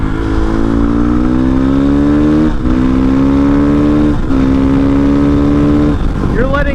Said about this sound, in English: You're gonna let the bike go all the way through the RPM.